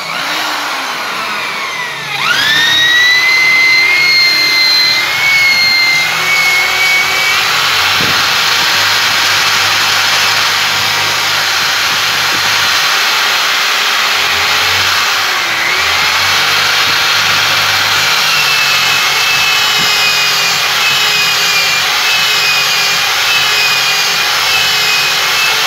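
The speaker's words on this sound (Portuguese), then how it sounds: "Vou colocar a lixa 360 para fazer os acabamentos" A rotary tool fitted with 360-grit sandpaper polishes the inside of the feed ramp on a TS9 pistol. A loud, close, high-pitched whine starts after a brief quieter moment and runs continuously, its pitch dipping and rising under load, with no talking.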